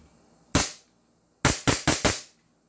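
Sharp reports from a Beretta M92 replica pistol, close and loud: one single shot, a pause, then four rapid shots in a quick string.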